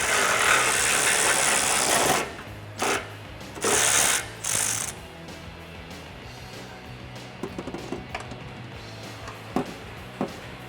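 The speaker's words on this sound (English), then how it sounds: "with a 13mm on our ratchet, we're going to go ahead and get these bolts out that hold our rear hangers" A ratchet with a 13mm socket backs out exhaust hanger bolts on a 2018-2019 Mustang GT, with several loud bursts of rapid clicking followed by quieter, scattered ratchet ticks and small metallic clinks.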